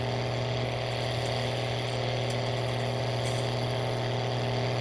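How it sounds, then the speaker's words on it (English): A loud tractor engine drones on without a break while towing a planter in Farming Simulator 19, the low hum thick with a faint rhythmic chatter, near and unaccompanied by speech. "the tractor goes nuts. That's loud."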